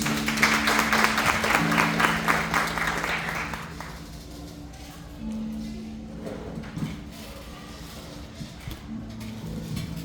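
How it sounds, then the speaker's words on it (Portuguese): Steady applause from a church congregation fills the opening seconds, then fades into a quieter room with scattered noises and a low hum. "Vamos aplaudir a palavra do nosso Deus."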